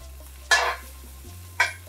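Two short bursts of sizzling as salmon skin cooks in a hot pan, the first longer, over a low steady hum, with no talking.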